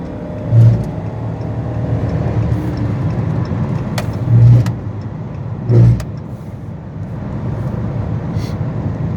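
A 2016 AWD Dodge Charger Pursuit V8 engine rumbles steadily at close range, with three short revving surges rising above the idle.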